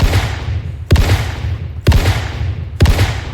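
Four evenly spaced, heavy blasts come from the Dragon, a close-range five-shell shotgun in a video game. Each sharp, loud report rumbles briefly before the next, roughly one per second.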